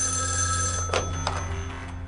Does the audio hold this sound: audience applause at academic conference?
no